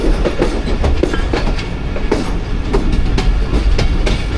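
Khyber Mail passenger train running through Taxila Cantt junction in Pakistan without stopping, loud steady rumble with a rapid clickety-clack of wheels over rail joints, heard close from aboard the moving train.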